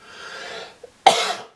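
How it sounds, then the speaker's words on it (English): A single sharp cough breaks out after a brief breathy pause, close and fairly loud, with no talking around it. "Excuse me for coughing."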